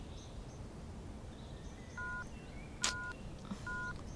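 A telephone is dialed: a few short, clear keypad tones sound in quick succession over a quiet background, with a brief click in between.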